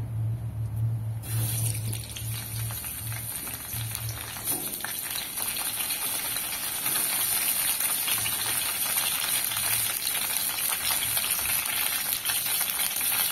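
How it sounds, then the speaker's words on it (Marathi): Cauliflower fries in hot oil in a wok with a loud, steady sizzle and crackle that continues unbroken, a low hum fading out early on. "आपण ही भाजी फ्राय करून घेणार आहोत."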